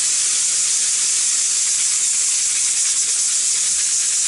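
A pressure cooker cooking chicken and dumplings steams with a loud, continuous high hiss that holds steady from start to finish, close by, with no voices.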